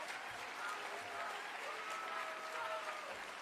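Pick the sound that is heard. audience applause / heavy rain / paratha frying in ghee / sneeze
audience applause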